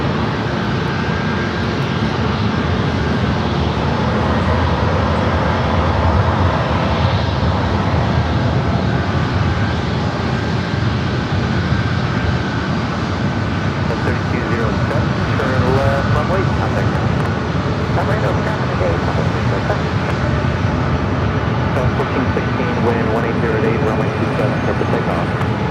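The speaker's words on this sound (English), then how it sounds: "This flight heading to Vegas, 737 MAX 8, flight 1460." A Boeing 737 MAX 8 jet at San Diego airport produces a continuous loud, broad engine roar that holds steady throughout, heard at a distance in an outdoor setting while a person talks.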